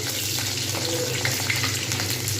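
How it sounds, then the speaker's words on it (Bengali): Vegetable cutlets fry slowly in oil over medium heat, giving a steady, even sizzling hiss that holds without a break from start to end, with no talk over it. "এরকম আস্তে আস্তে করে কিন্তু ভেজে নিতে হবে আঁচ কিন্তু মিডিয়ামে থাকবে"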